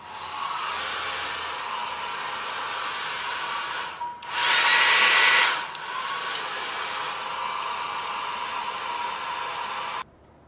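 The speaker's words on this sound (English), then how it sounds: "So I'm going to diffuse the front of my hair" A hair dryer fitted with a diffuser blows steadily while drying hair. The airflow surges much louder for about a second midway, then settles back to an even whoosh until it cuts off abruptly at the end.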